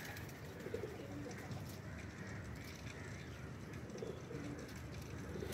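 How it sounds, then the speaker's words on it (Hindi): Blue pigeons of a rare breed cooing softly in a loft, low repeated coos rising and fading under a steady ambient hum, fairly faint, with no clear talk. "नीले कबूतर।"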